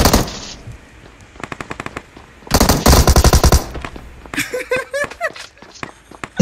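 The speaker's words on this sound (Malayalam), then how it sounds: "ചുമ്മാ ചുമ്മാ ചുമ്മാ ഫയർ ചെയ്യുന്നു" Automatic gunfire in PUBG Mobile rattles out in several rapid bursts, loud and close, with short gaps and softer footsteps between. A brief voice-like sound follows near the end.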